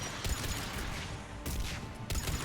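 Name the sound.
gunfire in Mass Effect 3 video game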